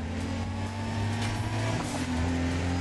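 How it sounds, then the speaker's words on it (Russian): Loud, steady engine drone of a GTR-class circuit race car with nitro boost and over 400 horsepower in a racing video game, holding a sustained high-revving tone throughout with no talk over it. "Нас ждет заезд по кольцевой трассе на машине класса GTR с нитроускорителем и мощностью более 400 лошадиных сил"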